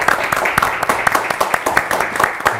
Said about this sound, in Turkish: Bilesin, bir alkış kendisine.